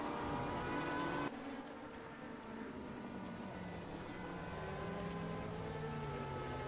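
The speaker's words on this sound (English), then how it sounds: "that car does not sound that good" Damaged race car engine in an endurance racing video game at Daytona, a rough, droning engine note running steadily throughout at moderate level, with a sudden shift in tone early on.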